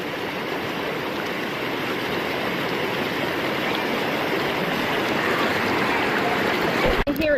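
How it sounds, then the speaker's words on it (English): Swift river current rushing at Ohiopyle State Park, a steady broadband wash of moving water that holds near and loud throughout, ending with a brief knock. "Here it's a swift current,"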